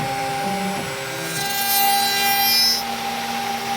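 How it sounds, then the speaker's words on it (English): A CNC machine mills name pockets into an oak end-grain chopping board, a steady grinding, rasping cut that swells louder midway and then settles, heard close with no talk. "So I'm just milling down the name pockets now."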